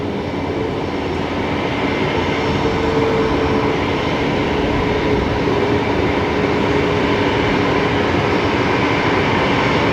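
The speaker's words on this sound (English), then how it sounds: "You can hear that Max 8 spooling up there." Jet engines of a Boeing 737 MAX 8 spool up at Brisbane Airport, a loud, broad continuous rumble and roar with a faint rising whine, steady throughout at moderate distance, with no talking.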